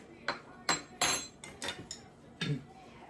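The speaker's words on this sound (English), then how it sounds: "I'm going to get a regular spoon to do this." Metal cutlery clinking in a home kitchen while a spoon is fetched for cooking chicken paprikash: about half a dozen sharp, separate clanks and rattles at an uneven rhythm, close by.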